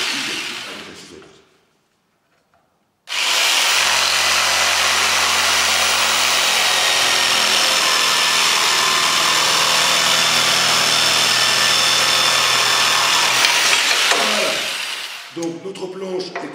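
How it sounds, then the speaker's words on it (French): A jigsaw cuts through a wooden board in one long, loud, continuous buzzing run of about eleven seconds, following a brief quiet pause, while building a coffee table. "on va venir effectuer une découpe avec la scie sauteuse"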